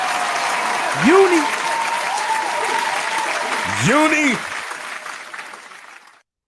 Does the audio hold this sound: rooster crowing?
no